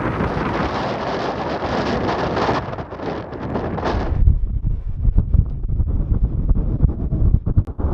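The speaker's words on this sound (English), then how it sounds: "It's very windy." Strong winter storm wind roars and buffets the microphone on a narrowboat on the Llangollen Canal near an aqueduct, a dense rushing blast that later turns into gusty, thumping rumbles.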